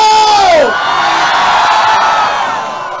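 A large crowd at the Ginuman Fest in Alaminos, Pangasinan shouts and cheers, opening with a loud rising whoop that falls away into a sustained roar, then fades slightly toward the end.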